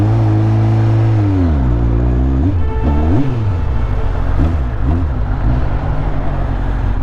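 A car engine in road traffic revs and accelerates loudly and close by, its pitch rising, falling and wavering through several gear changes before settling into a steady rumble.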